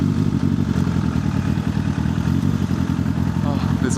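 A 600cc Suzuki Bandit motorcycle rides through a city, its mid-pitched engine chugging and rumbling steadily up close with some clatter, while the rider talks over it.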